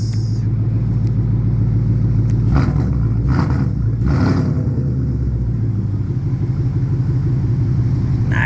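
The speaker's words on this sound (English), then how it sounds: "Look at those pipes back here. Flowmaster exhaust." A 2012 Ford Mustang Boss 302 with aftermarket intake and Flowmaster exhaust rumbles at a loud, close idle, then revs in two sharp throttle blips before settling back to a deep burble.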